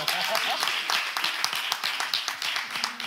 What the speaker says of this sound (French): Mais applaudissez pour l'émotion.